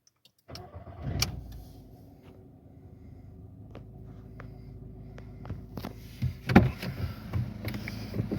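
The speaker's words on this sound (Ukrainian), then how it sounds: "Зараз я продемонструю, як заводиться автомобіль і відкрию капот." A 2009 Volkswagen Polo 1.4 MPI automatic starts after a clunk or two inside the car: the starter cranks briefly and the engine catches into a low, steady idle, followed by several sharp knocks and clatters nearby.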